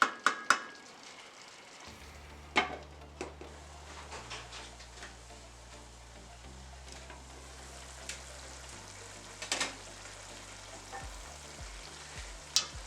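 Chicken for pelau sizzling steadily in a covered pot, a soft continuous frying hiss with occasional sharp clicks and clanks of utensils against the pot.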